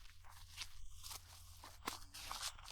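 Faint footsteps crunch through dry leaves in the quiet forgotten woods near Antlers, Oklahoma, with a few soft, irregular crackling steps spread across a hushed background.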